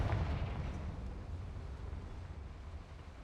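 The Confringo fire spell bursts in the Hogwarts Legacy video game, a deep rumbling explosion that hits hard at the start and then rolls on as a low, fading roar.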